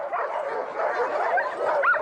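Sled dogs from a large kennel of about fifty in Canada bark, yip and whine together in an excited, overlapping chorus, close and continuous with little pause.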